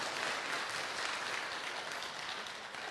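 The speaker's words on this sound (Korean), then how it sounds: "우리 함께 박수로 하나님께 영광을 올려드리겠습니다." A church congregation clapping together in worship, a steady wash of applause that stays fairly faint and distant for a few seconds.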